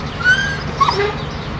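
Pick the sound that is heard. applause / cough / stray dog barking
stray dog barking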